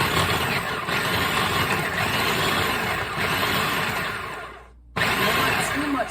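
Food processor pulsing cold butter into flour for a galette dough, a loud steady blending whir running several seconds, briefly cutting out near the end, then starting up again.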